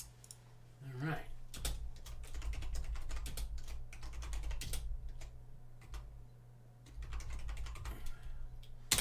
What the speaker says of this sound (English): Yeah, I know, I'm just typing away here.